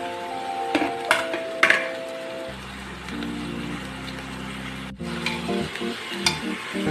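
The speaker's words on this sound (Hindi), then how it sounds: "अब हम इसमें जो है अपना मटन ऐड कर देंगे।" Half a kilo of washed mutton tipped into a pressure cooker and stirred, with clinks and scrapes of the spoon against the pot over a low, steady sizzle and a hum running underneath.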